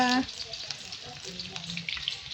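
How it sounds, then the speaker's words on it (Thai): Shallots and garlic frying in a pan for stir-fried mee sua, a steady close sizzle with some stirring, no talk. "ไปเจียวกระเทียมหอมกระเทียมค่ะหอมกับกระเทียม"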